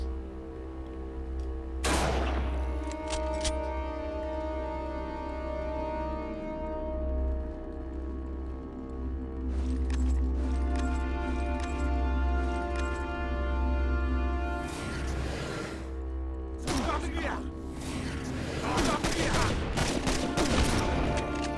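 Gunfire in the N.O.V.A. video game on PSP, with sharp bursts of shots scattered over a steady background game hum and music-like tones, some shots fairly loud and others more distant.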